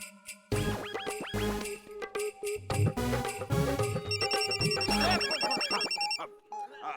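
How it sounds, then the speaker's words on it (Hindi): A phone's melodic electronic ringtone plays loudly up close, its bright tune repeating for several seconds. "प्रबल भैया ने फोन उठाया"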